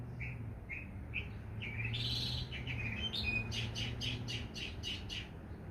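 A bird sings a series of bright, fairly close chirps and tweets, starting as spaced single notes and then speeding into a rapid rhythmic run of calls over a soft low hum.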